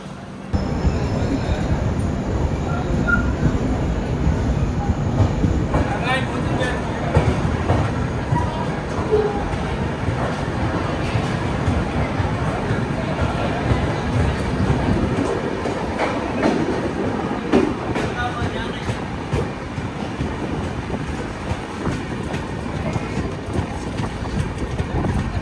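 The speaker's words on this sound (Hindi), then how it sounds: "2 मिनट के हॉल्ट के बाद अपनी ट्रेन आगरा की साइड बढ़ते हुए।" Uttar Pradesh Sampark Kranti Express, a 3rd AC coach, rolling out of Mathura toward Agra: a steady loud rumble with a continuous clickety-clack of wheels on rail joints throughout.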